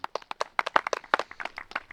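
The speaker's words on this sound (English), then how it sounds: "Your champion, applause." Brief, dense clapping rings out for a disc golf champion at an awards ceremony at a tournament in Estonia, close and crisp, with no talk over it.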